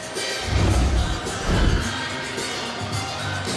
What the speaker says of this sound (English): the crowd really showing their love for Maddie Carr